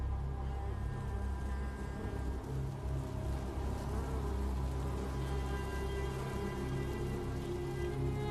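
Bees among almond trees give off a steady, dense buzz that keeps going without a break, heard from close by with no voices.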